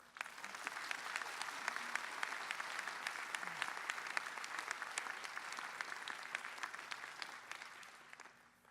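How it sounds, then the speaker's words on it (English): Conference audience at ICLR 2019 applauding three deep learning pioneers, a steady patter of many hands clapping in a large hall, moderately distant and fading toward the end without speech. "So let's give them a huge round of applause."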